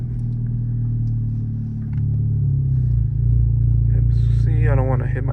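A manual transmission car pulls away as the clutch is released with a little gas, a steady low engine rumble that rises slightly as it starts moving, with a brief voice near the end.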